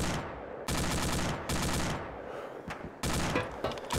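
Automatic rifle fire in ArmA 2 with the ACE mod, several sharp sustained bursts starting and stopping abruptly, loud and close, with brief pauses between volleys and no talk over them.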